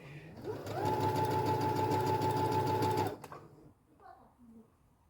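A sewing machine stitching a fabric scrunchie runs in one loud, steady burst of about two and a half seconds, then stops and leaves only quiet handling sounds.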